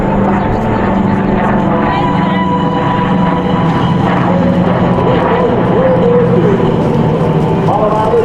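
A WWII-era C-47 transport plane flies past at an air show, its steady propeller-engine drone loud and continuous with crowd and announcer noise mixed in.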